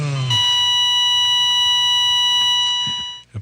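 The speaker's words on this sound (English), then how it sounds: "Is that faster beeping a bad sign?" An electronic alarm sounds one loud, sustained, high-pitched tone for about three seconds, then cuts off, with no other sounds around it.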